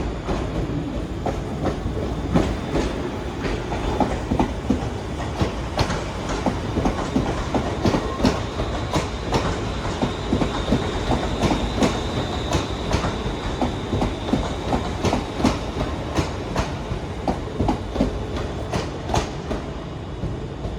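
A ScotRail Class 380 train, unit 380-105, pulls out of Glasgow Central with a steady rumble and a continuous run of clickety-clack wheel beats over rail joints, loud and close, with no talk.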